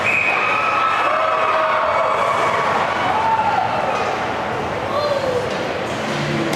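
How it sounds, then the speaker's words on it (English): Crowd at a Gananoque versus West Carleton junior hockey playoff game roaring and cheering in the arena, a loud sustained burst of voices with shouts rising over the din. "some of the crowd went nuts there"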